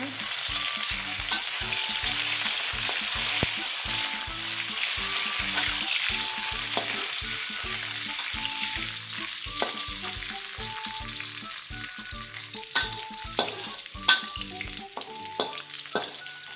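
Curry leaves frying in hot oil for Acehnese fish curry, a steady close sizzle broken by repeated stirring scrapes and clicks of a utensil against the pan.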